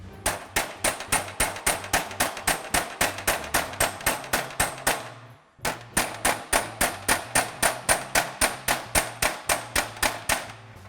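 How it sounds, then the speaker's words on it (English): Hammer planishing a welded steel cowl panel on a flat dolly underneath for a 1961 Thunderbird, a fast even series of sharp metallic taps, close and loud, with one brief pause midway before the rhythm resumes. "I'm gonna put my dolly underneath, which is flat, and then I'm gonna hammer that crown out of it"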